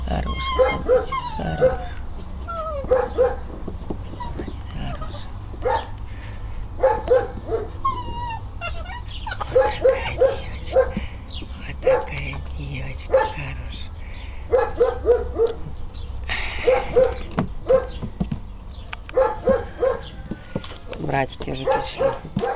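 A young puppy whimpers and gives high yips over and over in short bursts, close by, while someone talks softly throughout.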